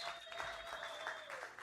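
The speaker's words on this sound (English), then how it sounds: "Can we give a big round of applause for the Honky Tonk Honeys for their amazing dance lesson before the show?" Crowd applause at a live country music show in a bar venue, after a dance lesson, a short burst of clapping with a faint whistle or tone running through it.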